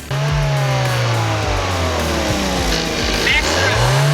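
A Chevrolet Trailblazer engine revving in neutral with an electronic throttle body, rising and falling through several climbing rev sweeps, loud and close, with a person talking over it.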